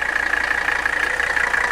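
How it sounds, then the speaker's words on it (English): An old Mercedes W123 diesel engine idles close by with a steady, loud clattering rattle, a continuous rapid knock and no voices over it. "listen to the rattle they make. It sounds like an old school diesel Cummins."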